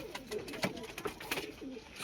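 An old black-green pigeon coos softly in low, repeated throaty notes, faint and a little distant, with light rustling around it.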